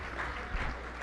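An audience at a gala auction applauds in a steady, dense wash of clapping that holds for the whole moment, close and fairly loud.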